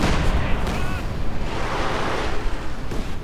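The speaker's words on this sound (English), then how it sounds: "More Katyusha rockets," Katyusha rocket artillery fires in a World War II strategy game, a dense continuous roar of launches and explosions throughout.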